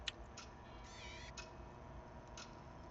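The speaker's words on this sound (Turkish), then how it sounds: "Saat sesi çok rahatsız ediyor ya." A clock ticks faintly and steadily, close by, over a low room hum, with a few sharp high clicks and a brief squeaky whine partway through.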